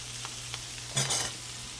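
Chickpeas fry in oil with aromatics and are stirred, a steady close sizzle broken by a brief louder scrape and clatter of the spoon.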